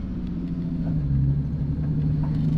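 A Nissan 370Z drift car idles with a steady low engine rumble as it creeps forward slowly, a continuous close drone without revving or speech.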